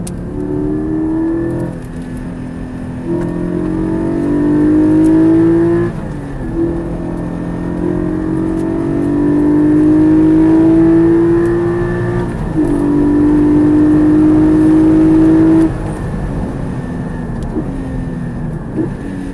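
Porsche Turbo S on track at Circuit de Charade, its engine rising in pitch through several gears with quick shifts between them, loud and close, then the drone falls away as the car passes.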